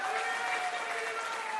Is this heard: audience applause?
yes